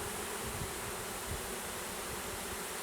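Steady, dense buzzing of many honey bees close by as a package of bees is installed into a hive, a continuous hum with no talking.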